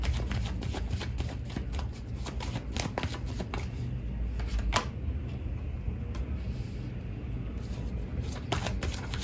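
Tarot cards being shuffled up close, rapid riffling and flicking bursts in quick succession, briefly pausing midway before resuming, with no talk.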